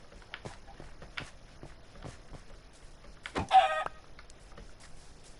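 Chickens in the video game Minecraft: a few short, scattered clucks, quiet and sparse, followed by a louder, brief burst near the end.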